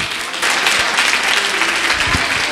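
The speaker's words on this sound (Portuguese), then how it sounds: "Palmas para Jesus, Deus abençoa." Applause from a church congregation at a couples' gathering, a brief burst of loud, dense clapping from a crowd, with a voice heard through the clapping.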